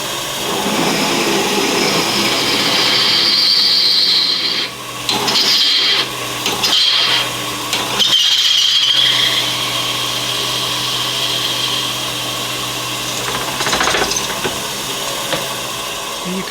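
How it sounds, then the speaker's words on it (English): A power drill bores through thin metal, its motor whirring steadily at a loud, close level with a few short pauses and restarts midway, the pitch wavering as the bit catches and chatters. "Drill bits aren't very good at drilling through thin material, particularly thin metal."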